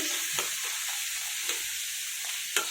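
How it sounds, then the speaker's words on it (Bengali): Boiled rohu fish roe frying in a pan while being stirred, with a constant bright sizzle broken by a few soft scraping taps of the spoon. "এখন আর কি আমি এটা ভালো করে নেড়ে নিচ্ছি।"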